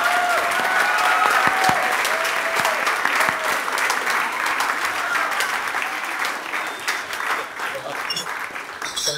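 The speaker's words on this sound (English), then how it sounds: "You can all give yourselves a big round of applause if you like." A studio audience at a science talk claps in sustained, dense applause that starts strong and slowly tapers over about nine seconds, steady and fairly close.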